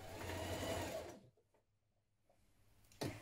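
A sewing machine runs a quick burst of stitching along a sweater seam in cozy knitwear, steady and close for about a second, then falls quiet before a short restart.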